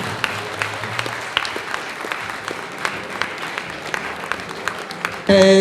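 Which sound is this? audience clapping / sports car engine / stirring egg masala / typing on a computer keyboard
audience clapping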